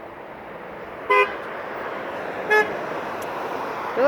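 Passing cars and a truck on a road sound their horns in three short, loud toots spaced about a second apart over steady traffic noise.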